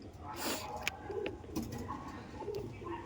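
Andhra pigeons at a sale, low soft coos repeating at intervals over a constant background hiss, faint and a little distant, with a few light clicks.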